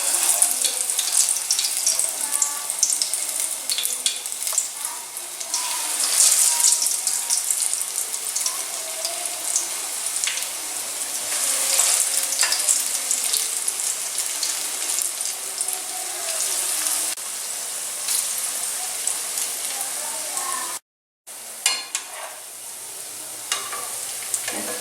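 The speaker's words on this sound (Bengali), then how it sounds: "আমি এবার আঁচটা কমিয়ে বড়াগুলো দিয়ে দিচ্ছি তেলে" Lentil and water spinach fritters fry in hot oil over low heat, a continuous crackling sizzle with scattered pops, broken by a brief silence near the end.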